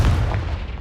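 The Confringo blasting spell from the video game Hogwarts Legacy goes off as a single heavy, booming explosion, loud and close, with a deep rumble that holds through its brief length.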